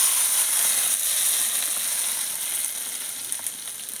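Chicken curry sizzling and hissing steadily in a pan as liquid is poured in, a close, bright crackling fry that holds for a few seconds and fades slightly toward the end.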